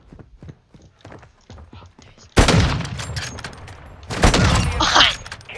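Modern Warfare 2 gunfire: a quiet run of light ticking and taps, then two loud, close bursts of rapid shots with booming echoes.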